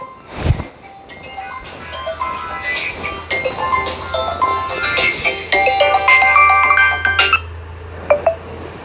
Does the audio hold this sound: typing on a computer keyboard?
no